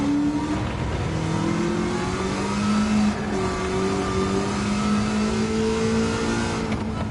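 Engine of an engine-swapped Amuse 380RS driven in Gran Turismo 7: a steady, close revving drone whose pitch rises and falls as the car accelerates and shifts, with no one talking.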